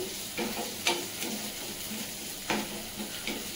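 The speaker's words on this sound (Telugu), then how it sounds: "చిల్లీ వేసేసుకొని ఒకసారి ఫ్రై చేసేసుకోవాలి." Green chillies fry in a pan for a North Indian sarson dish, giving a soft, steady sizzle with a few brief stirring scrapes, with no voices.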